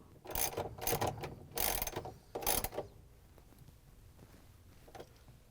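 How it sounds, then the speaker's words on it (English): A ratchet with an extension and 3/8-inch socket turns bolts on a GE washing machine during drain pump replacement, giving four quick bursts of rapid clicking, then falling quiet with faint handling noise. "We're gonna use the ratchet with the extension and the 3/8" socket to put in the bolts"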